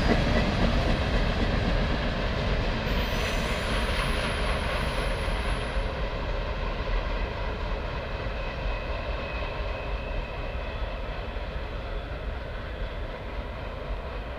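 A freight train passing at Wicopee fills the whole clip with a loud, continuous rumble and wheel roar, with a brief high squeal partway through and no talking.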